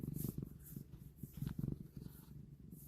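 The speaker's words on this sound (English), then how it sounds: "I don't know if you guys can hear, she's purring." A cat purrs steadily up close, a soft rhythmic rumble rising and falling with each breath, with no talking.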